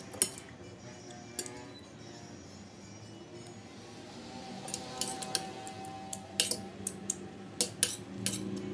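Metal cutlery clinks against a plate while someone eats rice and ham, with scattered sharp clicks and scrapes that grow busier and closer toward the end, over a low room hum.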